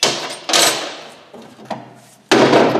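Heavy blows from a 4-pound lump hammer knocking a rear brake hub loose on an Amazon car, two loud sharp impacts with ringing decay and a few lighter knocks between them, close and with no talk.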